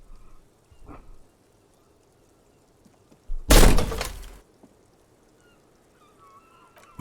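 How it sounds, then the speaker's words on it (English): A small, heavy door in the video game Disco Elysium gives way with a sudden loud crack and splintering burst lasting about a second, after a faint knock or two and quiet surroundings. "This time, something cracks inside."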